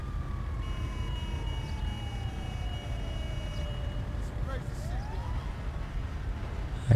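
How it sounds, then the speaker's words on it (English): Emergency vehicle siren in the video game GTA 5, a single gliding wail that falls slowly in pitch, distant and moderately faint over a steady low rumble of ambient game noise. "I hear the sirens."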